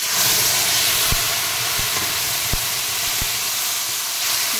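Ground spice paste fries in hot oil for a Bengali fish curry with milk, giving a loud, steady, close hiss and sizzle throughout, with a few soft clicks of stirring scattered through it.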